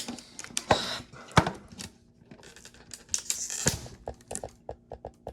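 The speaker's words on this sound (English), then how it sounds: "I'm gonna use this pen instead, trying to rip it." A pen jabs and tears at a foil Pokémon card pack, giving sharp crinkly rips and scratchy bursts, then a run of quick, evenly spaced clicking pokes at close range.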